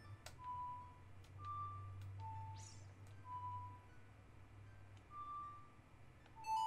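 Soft beeping in The Legend of Zelda: Ocarina of Time at the Great Fairy Fountain: short, clear electronic tones spaced irregularly, some higher and some lower, over a low steady hum, quiet and without talk.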